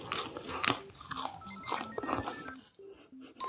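Close crunchy bites and chews into an overbaked salt bread with a very hard, crisp crust, several sharp crackling bursts over about three seconds with no talking.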